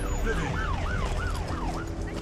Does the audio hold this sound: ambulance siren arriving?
yes